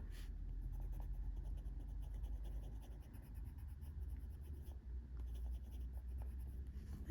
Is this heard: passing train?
no